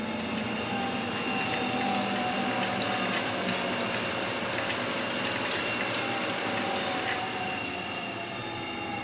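A power feeder runs on a CTS-130 tilting vertical arch shaper moulder, a steady mechanical whine and hum with faint intermittent clicks, continuous and fairly close throughout.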